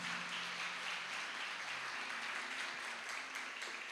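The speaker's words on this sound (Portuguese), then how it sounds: "Aplauda o Senhor em nome de Jesus." Church congregation applauding during a worship service: a continuous wash of many hands clapping, steady and fairly loud for the whole stretch, with no clear talk on top.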